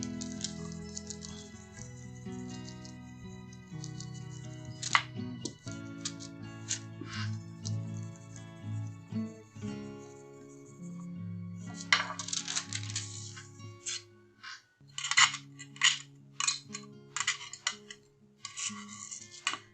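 Burnishing a metal bangle by hand, a run of light metallic ticks, clinks and ringing taps with short scraping strokes, fairly close and quiet, with no voice.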